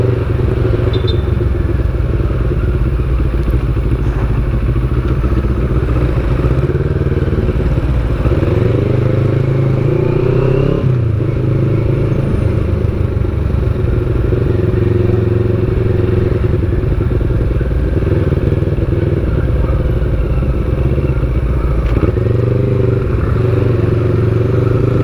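A Kawasaki NK400 motorcycle being ridden: a steady engine drone with low rumble and wind noise running throughout, loud and close, with occasional clatter and thumps from the road.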